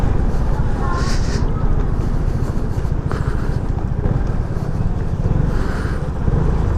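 Vespa GTS Supersports 300 scooter riding in Santa Rosa City, Laguna, its engine droning steadily under heavy rushing wind noise, loud and continuous throughout with no clear throttle changes.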